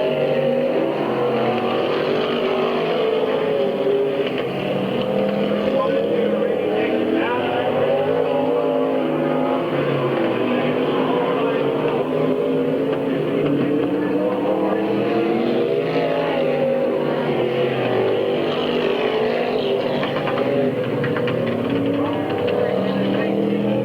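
Ohio E-Mod race cars run a heat at Midvale Speedway, a dirt oval, with loud continuous engine roar from several cars rising and falling as they circle, and an announcer's voice heard over the din.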